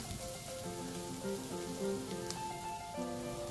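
Sliced onions fry with dried anchovies in a pan, giving a soft, continuous sizzle at low volume under gentle background music.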